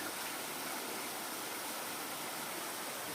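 A mountain stream pours down a waterfall near an abandoned tunnel in Rabun County, Georgia, a faint, steady hiss of flowing water with no other sounds.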